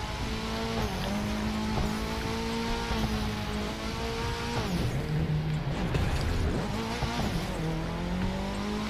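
A car in The Crew 2 racing game skidding in the rain: a continuous engine drone that rises and falls in pitch, with tire squeal and the wash of wet road mixed in, loud and steady, with no talking.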